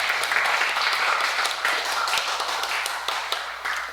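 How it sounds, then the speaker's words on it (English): Applause from an audience at an intergenerational service event, a steady patter of clapping hands filling the room with sharp individual taps mixed in. "Should we give them one more round of applause?"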